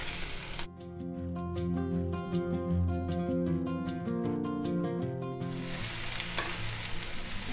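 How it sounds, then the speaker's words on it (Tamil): Cut okra frying in hot oil in a pan makes a loud, dense sizzle at the start and end, while music plays over the middle stretch. "அப்புறம் கட் பண்ணி வச்சிருக்கிற வெண்டைக்காயை சேர்த்துடலாம்."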